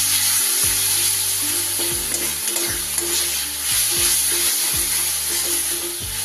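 Tomato paste fries in a pan for katla fish curry with potatoes, a loud, steady hissing sizzle that fills the whole stretch over a low, droning hum, with no voices.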